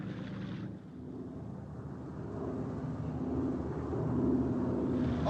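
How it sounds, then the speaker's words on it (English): Steady low drone of an approaching contact plane, rumbling under wind-like noise and growing slightly louder toward the end, with no voices. "Contact plane approaching on schedule."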